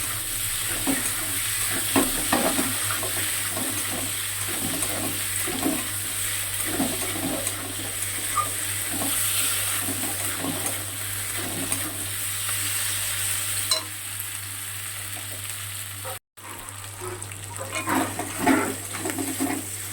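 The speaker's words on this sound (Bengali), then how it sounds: "দেখো মশলাটা খুব কষা হয়ে গিয়েছে। মশলাটা কষিয়ে নিলাম" Ginger-garlic spice paste and dal frying and being stirred in a pan, a steady close sizzle with repeated scraping strokes, alone with no talk.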